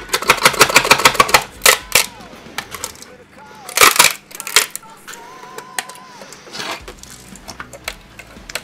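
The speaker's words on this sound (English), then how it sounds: "The bits that are a bit stubborn, I'll take a knife and trim them off" A knife trims stubborn support material off a freshly printed 3D part, giving sharp clicks, snaps and scraping taps in irregular bursts, close and fairly loud.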